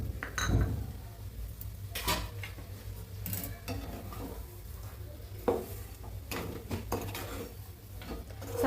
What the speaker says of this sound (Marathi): साखर चांगली एकजीव करून घेऊ.